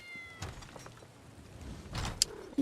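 A cat meowing in The Elder Scrolls Online, a few short faint mews heard against quiet game ambience, with one brief sharper sound near the end.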